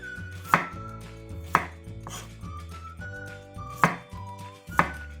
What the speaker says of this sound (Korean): 저는 이거 마늘 다지지를 않고요. 그냥 편으로 이렇게 썰 거예요.